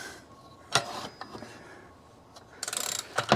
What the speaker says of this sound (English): start pressing that crank out of there. It's coming out nice and easy